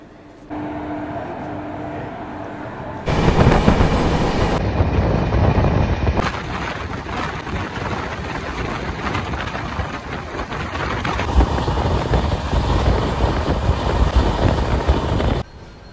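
Jan Shatabdi Express train at Jhargram station platform, a loud continuous rumble and rushing roar that shifts in intensity in several abrupt sections over about fifteen seconds, with no talk.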